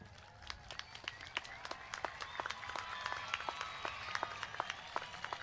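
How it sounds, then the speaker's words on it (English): Audience at a high school graduation ceremony applauding families, with dense, steady clapping from a large crowd and scattered sharper claps standing out throughout. "Please turn and give your parents, family members, and supporters a thunderous round of applause."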